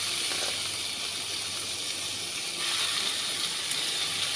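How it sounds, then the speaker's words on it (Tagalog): Chicken cut into small strips hitting a hot pan, a steady loud sizzling hiss that holds for several seconds, close and without talk. "Tapos, ilagay ko na yung chicken."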